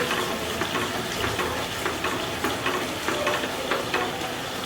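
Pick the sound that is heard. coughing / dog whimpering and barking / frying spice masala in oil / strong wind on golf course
frying spice masala in oil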